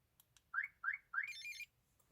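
A Tomahawk car alarm locking the car gives three quick rising chirps, then a longer warbling electronic tone, sharp and clear against near silence.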